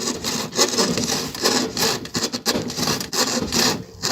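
A wooden plank being cut by hand saw while building a skatepark, steady repeated rasping strokes close and loud with a brisk back-and-forth rhythm, no voices.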